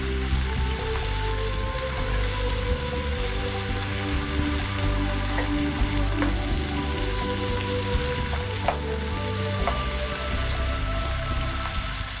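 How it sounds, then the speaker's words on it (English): Ground beef frying in a pot for a one-pot penne bolognese, a steady close sizzle and crackle with occasional light scrapes as the meat is broken into small pieces, no voices. "Break the big chunk of meat into smallish pieces."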